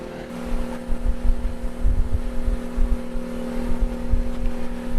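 A four-stroke outboard motor on a small sailboat idles and runs steadily at close range, with a low, even engine drone, a constant tonal hum and a rough, throbbing low end that holds for about five seconds with no speech.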